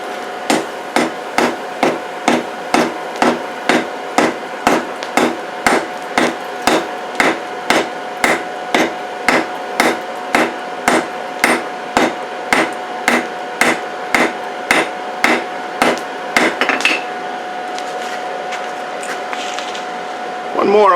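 Rhythmic hammer strikes forge-weld a cable Damascus knife billet, a long run of loud, evenly paced metallic blows over a steady hum, ending in a continuous blowing roar after the hammering stops.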